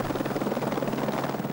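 Rescue helicopter of the race organisation at the Dakar rally, its steady pulsing rotor drone loud and close throughout, with no voices.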